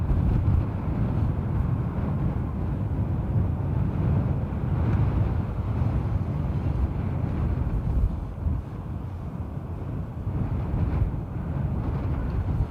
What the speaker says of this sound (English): Should have shielded you from the wind a little bit as well.